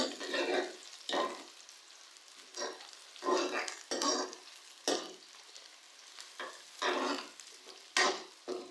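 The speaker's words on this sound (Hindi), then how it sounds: "प्याज का हम लोग गोल्डन कलर आने तक फ्राई करेंगे।" Onions fry in a hot pan while being stirred for a chicken masala until golden, giving a steady close sizzle broken by repeated scraping stir strokes, with no talking.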